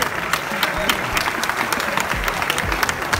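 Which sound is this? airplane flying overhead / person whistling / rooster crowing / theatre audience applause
theatre audience applause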